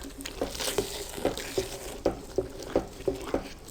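Egg halwa roasting in ghee is stirred in a pan, with a rhythmic series of soft scraping strokes about every third of a second over a faint sizzle, fairly quiet.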